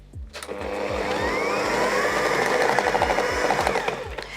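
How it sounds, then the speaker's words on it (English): An electric mixer runs on high speed, beating cake batter for mince pie cupcakes. It gives a steady, close motor whir with a rhythmic knocking from the beaters striking the bowl. "I'm going to turn the speed up to high and mix it for about 30 seconds on high"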